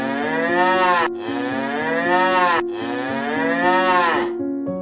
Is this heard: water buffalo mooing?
yes